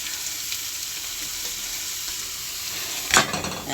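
Bitter gourd and saltfish sizzle with onions in a pot, giving a steady soft frying hiss. Near the end comes a brief louder burst as more food hits the hot oil.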